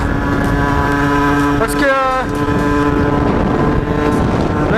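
A motorcycle ridden as a big thunderstorm approaches, steady engine drone buried under heavy roaring wind buffeting the microphone, with one rising engine sweep partway through and a brief spoken phrase.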